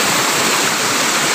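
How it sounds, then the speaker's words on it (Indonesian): Fast-flowing stream water rushes loudly and continuously through a culvert under a bridge, a close, steady broadband roar with no voices. "Ini airnya agak deras."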